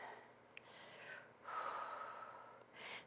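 Slow, deep breaths during a heart-opening yoga flow: a soft inhale swelling into a long, airy exhale, then another breath rising at the end, close and quiet with no talking.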